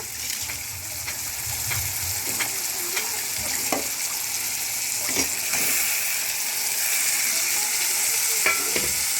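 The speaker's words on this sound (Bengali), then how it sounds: "এর মধ্যে এবার আমি পাস্তাগুলো দিয়ে দেব।" Pasta fries in a pan with green chili and tomato, giving a steady close sizzle with intermittent clicks and scrapes as it is stirred.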